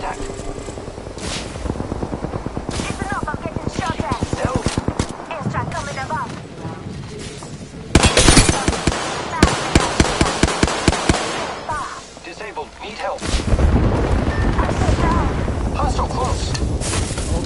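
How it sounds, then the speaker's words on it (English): Gunfire crackles through an enemy firefight in Apex, rapid volleys of shots in long bursts with heavy booms, loud and near, while voices call out intermittently. "The enemies are shooting at me."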